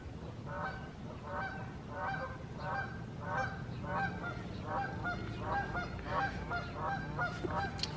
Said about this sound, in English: the ducks out here, geese, are going wild.